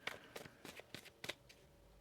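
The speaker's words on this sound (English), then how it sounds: "One more shuffle here." Tarot cards being shuffled by hand, a run of quick papery riffles and taps in irregular bursts, close but soft in a quiet room with no talk.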